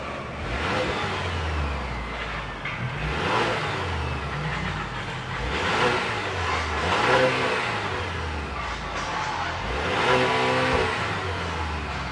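A 2026 GMC Acadia Elevation's 2.5-liter turbocharged four-cylinder engine runs steadily and close, rising in several revving swells over a continuous mid-pitched drone, with no voices.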